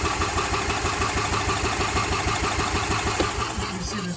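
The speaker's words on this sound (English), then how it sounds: "all it wants to do is crank" A Club Car DS golf cart's FE290 engine cranks steadily without firing, a fast rhythmic chugging pulse that runs loud and unbroken from start to end, with no catch or rev-up.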